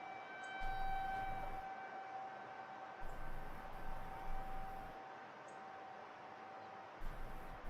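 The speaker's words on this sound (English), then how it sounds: "Yeah, you can hear some distant tornado sirens here from Aaron's live camera." Tornado sirens wail faintly in the distance during severe weather, steady and drawn out, beneath a soft hiss and intermittent low rumbling.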